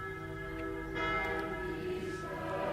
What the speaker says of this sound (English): The bells continued to toll from afar.